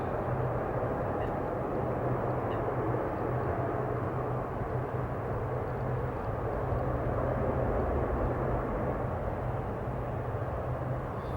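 A heavy airliner taking off at Amsterdam Airport, heard as a steady, distant low engine rumble and roar holding evenly throughout, with no speech.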